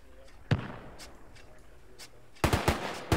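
A WW1-era mortar firing in the video game Arma 3, a sharp single report early on, then a rapid cluster of loud booms near the end over a quiet, distant battlefield background.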